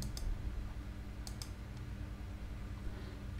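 A few sharp mouse clicks, a pair near the start and another pair around the middle, over a steady low hum while a page is built in WordPress with Elementor.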